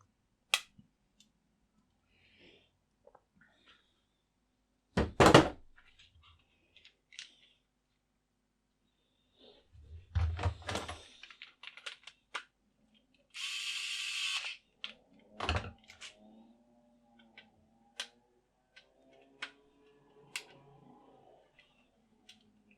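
Sharp isolated clicks and brief mechanical rattles of a torque screwdriver set to 2.5 tightening a screw with a bit in its holder, scattered across a quiet room with short bursts of handling noise.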